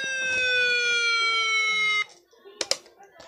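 Midland WR-10 weather radio alarm siren blaring as a loud, steady multi-tone electronic wail for about two seconds, then cutting off, followed by a couple of sharp clicks and handling noise.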